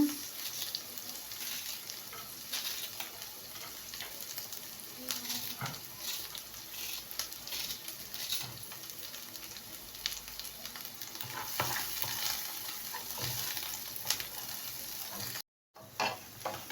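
Onions frying in a pan give a steady, soft sizzle with scattered crackles and occasional stirring scrapes throughout, briefly cut off near the end.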